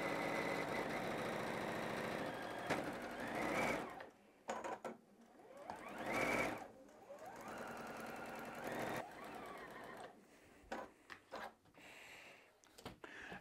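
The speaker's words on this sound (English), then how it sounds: "I'm just gonna do a very basic quarter inch seam allowance" A sewing machine stitches a quarter-inch seam through quilt block fabric, guided by an edge guide with a backstitch at the start. Its steady close whir runs for a few seconds, then comes in shorter runs broken by brief pauses, with no talk.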